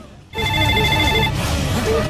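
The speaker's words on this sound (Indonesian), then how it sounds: "Beruntung batal dilakukan karena adanya telepon berdering." A telephone rings with a bright, buzzing electronic tone that starts abruptly and continues steadily, with a voice talking underneath.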